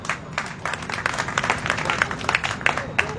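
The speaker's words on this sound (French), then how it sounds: "il faut les applaudir." An audience claps in applause for a group of elders, nearly all around seventy, with steady dense clapping and a few louder individual claps throughout, and faint voices murmuring underneath.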